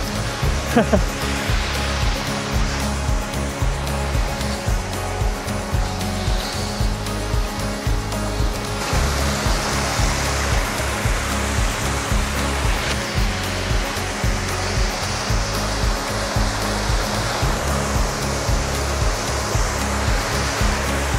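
Busagak Falls in Pinamungajan, Cebu, a steady, loud roar of falling water that stays constant and close from start to finish.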